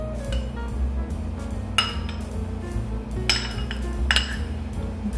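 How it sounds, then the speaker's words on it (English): A metal spoon presses grated ginger against the side of a bowl to squeeze out juice, giving sharp scattered clinks and scrapes over a low steady background hum. "what I do is I just use a metal spoon, just a spoon, and then push the ginger to the side."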